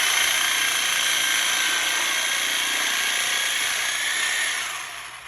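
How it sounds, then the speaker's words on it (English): A Sawzall reciprocating saw cutting, a loud continuous buzzing rasp held close for about four seconds before tailing off as the cut ends. "Then I cheat and I use the Sawzall."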